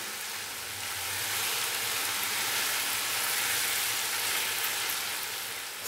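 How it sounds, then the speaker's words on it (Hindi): Spices roast in a pan with a little water over a medium-low flame, giving a steady, dense sizzle and hiss that swells slightly and holds evenly for several seconds. No talking is heard. "मैंने इसके अंदर थोड़ा सा पानी इसलिए डाला है ताकि जितने भी मसाले हैं वो जले ना और अच्छे से मसालों की भुनाई हो जाए"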